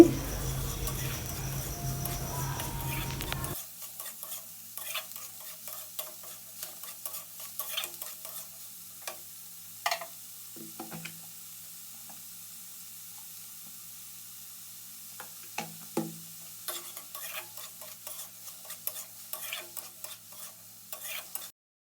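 Vegetable momo filling with cauliflower is stirred and cooked in a pan, with repeated soft scraping and light sizzling after a brief louder opening.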